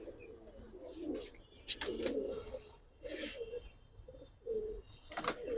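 Giribaj high-flyer pigeons coo in soft, low bursts close by, with a few sharper chirps and brief flutters scattered between the calls.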